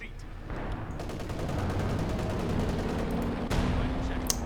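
Gunfire in a Company of Heroes balance mod battle as a sniper picks at retreating squads, steady crackle of rifle and machine-gun shots under continuous combat noise, with a sharper burst partway through.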